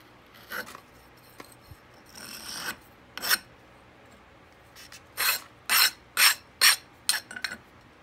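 Scraper dragged across a sand-casting flask to strike off excess packed sand, a series of short gritty rasping strokes, sparse at first then quicker and louder toward the end, close up in a quiet room.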